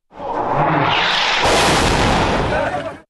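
A loud, sustained explosive roar from a missile erupts and rumbles for a few seconds before fading out.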